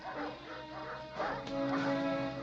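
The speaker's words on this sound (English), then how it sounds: "Not the enraged dogs." Several enraged dogs in the James Bond film Dr. No bark and yelp in quick bursts, close and loud over a sustained tonal film score, with no talk.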